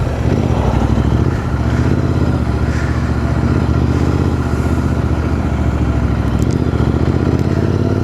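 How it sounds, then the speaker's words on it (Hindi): A motorcycle on a road ride drones steadily up close, with a rough continuous engine and exhaust roar plus wind, any exhaust pops buried in the constant noise. "मेरा जो एग्जॉस्ट है पॉप पॉप कर रहा है।"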